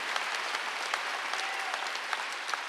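A church congregation applauds during a Wednesday worship service, a steady, moderately distant patter of many hands clapping together without talk over it.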